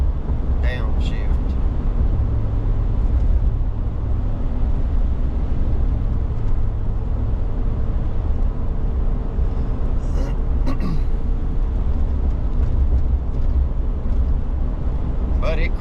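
Cabin rumble of a 2500 HD truck with a 4L80 automatic transmission driving along, a steady low engine and road drone under ongoing talk.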